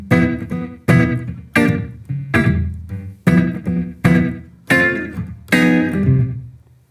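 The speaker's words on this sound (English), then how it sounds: "there's our 2-5-1 sequence resolving to our 4 chord," Guitar playing a 2-5-1 chord sequence that resolves to the 4 chord in a 12-bar blues lesson, with about eight separate strummed chords in a steady rhythm, close and clear, no talking.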